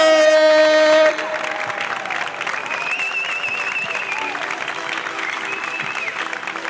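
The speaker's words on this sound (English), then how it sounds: "Please give a round of applause to Marwan ElShorbagy." Crowd at a squash match applauds and cheers loudly as players are introduced, with sustained clapping and shouts. Music plays at the start and then cuts out, leaving the crowd noise.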